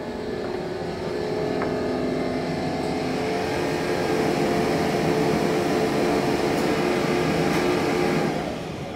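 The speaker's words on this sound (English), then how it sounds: "Ooh, you can hear the machine room." An elevator machine room at a regional medical center in Chesapeake, Virginia, running with a steady, loud mechanical hum and drone that holds for several seconds before easing slightly at the end.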